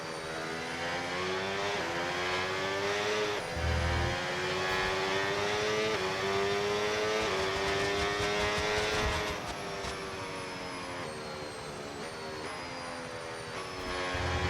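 Formula One race car on the Miami track in F1 25, a high-pitched engine whining steadily through gear changes and shifting revs on an easy out lap, close and continuous with no talking.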